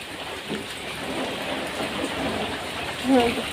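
Rain falls steadily around a rural home in Odisha during a heavy downpour, a dense, even hiss of drops on surfaces close by, with a brief louder swell near the end.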